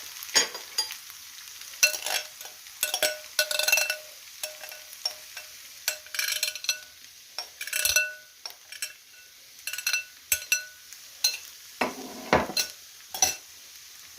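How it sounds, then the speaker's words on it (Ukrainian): Beetroot and onion sizzle in a pan while a utensil stirs and scrapes against it in uneven bursts, close up, with no talking. "Цей бурячок я буду ще смажити з цибулею протушувати."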